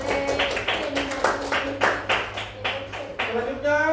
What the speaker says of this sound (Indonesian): Kalau begitu tepuk tangan untuk kelompok 3.